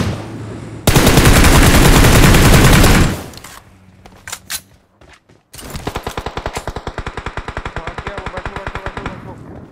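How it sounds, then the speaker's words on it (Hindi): Loud bursts of rapid automatic gunfire in BGMI, a long dense volley, a brief lull with scattered shots, then another steady rattling burst. "यहाँ पे चल रही थी गोलियां"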